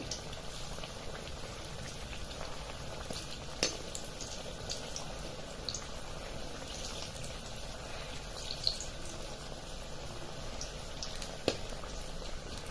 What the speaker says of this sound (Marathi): आता पलटून घेणार आणि दुसऱ्या बाजूने सुद्धा फ्राय करून घेणार